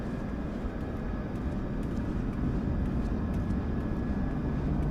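Airplanes at LAX airport at night make a steady, loud, continuous engine roar that fills the air without a break.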